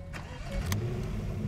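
Car engine in GTA 5, a steady mid-pitched hum with a light rev partway through, close and fairly loud, with no voices.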